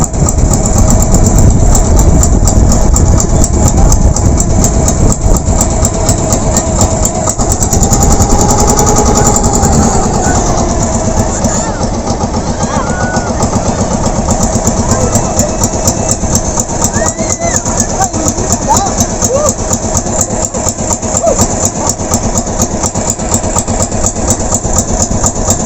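A small wooden outrigger boat, one of two carrying a family on a beach outing at Silanguin, Subic, has its engine idling loudly and steadily throughout, a continuous low rumble with people talking over it.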